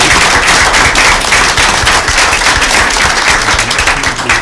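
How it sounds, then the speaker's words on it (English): Loud, dense applause from a crowd at a county board of education meeting, continuous rapid clapping filling the room throughout with no talking over it. "So I'd like to just everybody give each other an applause for."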